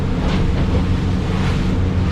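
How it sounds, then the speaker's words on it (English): Steady wind and choppy water slapping around a Bar Crusher 670HT fishing boat out in rough weather, a constant broad wash of wind rumble and surf with no voices. "A little bit of wind, a little bit of chop, makes it a little bit more exciting"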